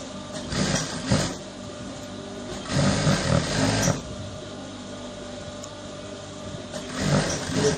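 A sewing machine stitches around a simple button-down shirt with a bishop collar, running in a steady mechanical whir with several louder bursts, close and alone without talk.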